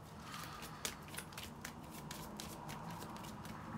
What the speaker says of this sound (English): I've shuffled that in as well